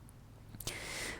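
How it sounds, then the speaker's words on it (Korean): A single sharp mouse click on a button, quick and close, followed by a soft bright hiss in a quiet room, with no voices. "보기 버튼 클릭했을 때"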